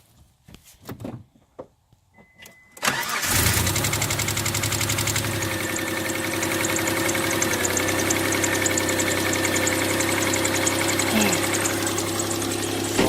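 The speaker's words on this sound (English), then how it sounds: "I'll start it up for you. It starts up just fine." A Dodge Stealth R/T engine cranks over after a few faint clicks and bumps, catches, and settles into a loud, steady idle with a constant hum and mechanical ticking that lasts to the end.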